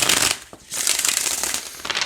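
Tarot cards are shuffled by hand, giving a close, crisp riffling flutter in quick bursts with a short pause in between.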